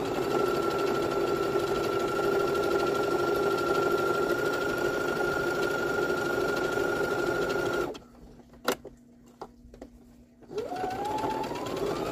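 A sewing machine runs a wavy stitch, attaching a Zorb core to the back of a cloth pad topper. It whirs steadily and close for about eight seconds, then stops, and a few soft clicks and handling sounds follow before the motor starts again.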